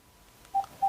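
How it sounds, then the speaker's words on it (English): Two short telephone keypad tones beep in quick succession in a quiet office, each brief and clear against faint background hiss. "I apologize for that phone call"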